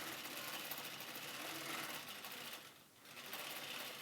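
A quilting machine hums and stitches steadily along a row of a baby quilt, with a fast continuous mechanical whir that dips briefly near the end, faint and close with no talking.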